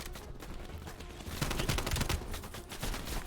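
Turret gunfire in the Call of Duty Cold War video game, a dense loud fusillade of rapid shots rolling continuously for a few seconds.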